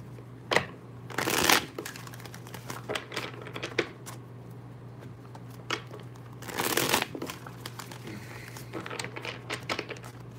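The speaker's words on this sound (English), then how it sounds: "2 more shuffles and we're ready, y'all." Tarot cards are shuffled close up in several quick riffling bursts, separated by softer slides and taps of the deck, with no talking.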